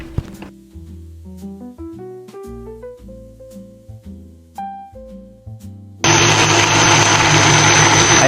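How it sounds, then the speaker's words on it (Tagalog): After a melodic run of music, a kitchen blender roars on abruptly to mix cocoa powder into a chocolate paste, its loud, steady motor whir holding constant to the end. "Then blend it in order to mix the additional ingredients."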